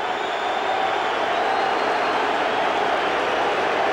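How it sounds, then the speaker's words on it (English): A Wrigley Field baseball crowd at a Cubs game against the Yankees gives a sustained, steady roar of massed voices, loud and distant, with no individual voices standing out. "this crowd will let Joe Torre and the Yankees hear it"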